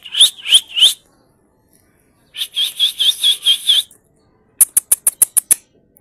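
Caged pet parrots call in sharp, shrill bursts: a few repeated squawks, a longer run of rhythmic chirping calls, then a quick series of clipped whistled notes, loud and close with silence between.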